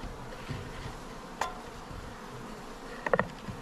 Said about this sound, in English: let's go get the bees